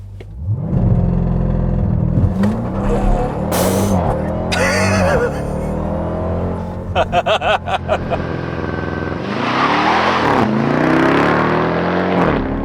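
A 2021 Dodge Durango SRT Hellcat with a 6.2-liter supercharged V8 runs through a launch-control start: a loud, close engine roar that surges and rises in pitch through several hard revving pulls and shifts.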